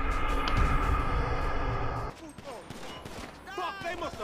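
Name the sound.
gunfire in video game GTA 5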